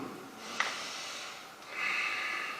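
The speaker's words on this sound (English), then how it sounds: "Let's take some deep breaths." One person draws slow, deep breaths during a yoga session: a sharp inhale catches near the start and a longer airy exhale follows, close and fairly quiet, with no talking.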